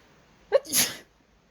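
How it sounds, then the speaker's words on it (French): A single sharp sneeze with a quick intake then a breathy burst, close and fairly loud, over quiet outdoor garden background. "je risque d'éternuer"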